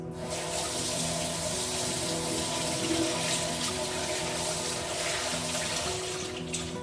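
Steady stream of water running from a tap into a sink during a home Ganesh Chaturthi puja, a continuous close hiss with no pauses or talk.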